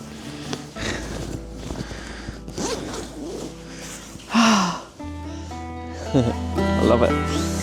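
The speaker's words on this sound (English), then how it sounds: "There's a zip inside, which is handy" The inside zip of a small camping shelter on a cold hilltop is pulled in several quick rasping runs with rustling fabric, close and fairly loud, while a person talks and breathes nearby.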